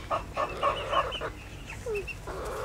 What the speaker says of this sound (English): you can kind of see some of the baby chicks over here on top of the brooder